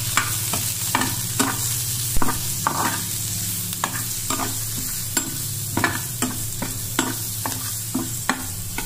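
Onions with garam masala frying in oil, with a steady sizzle under repeated rhythmic scrapes of a spoon stirring the pan, close and fairly loud.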